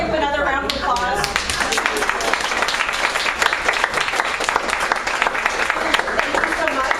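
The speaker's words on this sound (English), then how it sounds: "if we can give him another round of applause" A lecture-hall audience claps for a professor, dense loud applause filling the whole stretch with steady rapid hand claps and no pauses.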